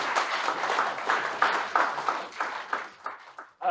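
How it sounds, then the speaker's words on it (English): Audience at a Black Men's Consortium community engagement event applauding and clapping steadily for several seconds, a dense wash of hand claps that thins out toward the end. "Can we give a round of applause for the amazing Tony?"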